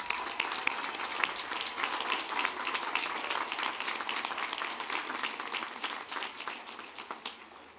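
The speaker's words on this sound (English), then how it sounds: "You may now applaud these graduates." At a graduate and professional commencement ceremony, a large audience claps steadily for the graduates, a dense, sustained applause that fades slightly toward the end, with no speech over it.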